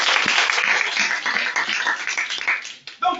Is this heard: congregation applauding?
yes